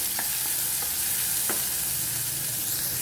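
Onion sautés in a pan with a steady close sizzle, punctuated by several light scrapes and taps of a spoon stirring.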